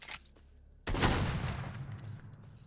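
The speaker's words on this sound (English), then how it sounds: "the sawed-off, this is pretty much the same shotgun you get from one of the quest lines here. Very quick fire rate" A sawed-off shotgun in a video game fires, with a sharp crack followed by a loud, sustained burst of gunfire noise that lingers and fades, close and prominent.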